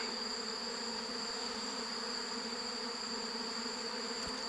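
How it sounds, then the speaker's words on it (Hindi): A swarm of honey bees spreads through the air around a hive after being brought down from a height, giving a steady, dense buzzing drone with no one speaking. "अब जो सारी मधुमक्खियाँ ऊपर से नीचे उतरकर हवा में फैल रही है"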